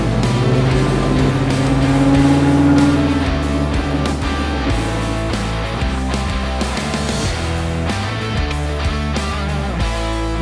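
A classic muscle car with newly installed brakes on a test drive, engine rumbling and shifting through revs, loud and close for the whole stretch, no talking.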